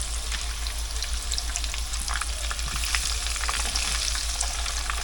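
Jicama fries sizzle steadily in a frying pan, a constant close crackle and hiss with scattered pops over a low hum, and no one speaks.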